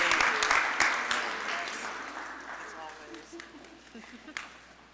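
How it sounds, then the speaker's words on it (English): Audience applause at a mayor's community service awards ceremony, loud at first and gradually tapering off, with voices and a few cheers mixed in toward the end. "Round of applause for Dafney."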